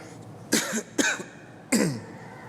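Three dry coughs, close and fairly loud, spaced out over a couple of seconds against quiet background.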